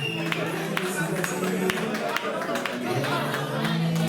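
Live audience applause at a French stage show fills the space with steady clapping and crowd babble, with a voice talking over it throughout.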